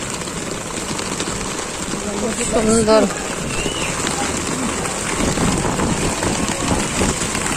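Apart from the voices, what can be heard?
heavy rain heard from inside a covered rickshaw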